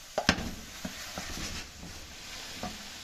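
Chicken frying in a pan over high heat gives a soft, steady sizzle, broken by a few sharp clicks and scrapes from stirring. It is fairly quiet, with no talk.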